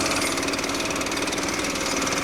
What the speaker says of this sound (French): Et l'air, il sort d'ici avec un compresseur.